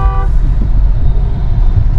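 Engine of a Tata Scorpio N diesel automatic SUV pulling hard under acceleration, a steady low rumble from inside the cabin with a brief horn-like tone at the start.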